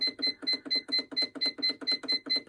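A sewing machine stitches through paper on a mat in a fast, even run of about a dozen quick mechanical clicks, with a faint high whine, close by and without talk.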